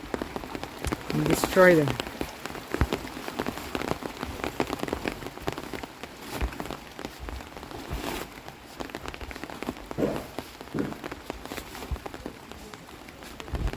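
Rain patters steadily on a building site where concrete blocks are being molded, a close hiss of drops with scattered louder taps, while a person speaks briefly and movement sounds come and go.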